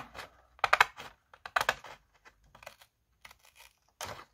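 Paper being sliced with a craft cutter or paper trimmer while making a three-compartment pouch, heard as a series of short, close scraping and crisp rasping strokes separated by brief pauses.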